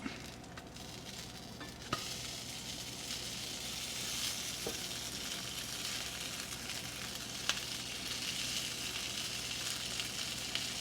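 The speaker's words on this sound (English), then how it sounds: "Time to give it a flip." Scrapple sizzles steadily in a pan just after being flipped, a constant close crackle broken by a few faint clicks and taps.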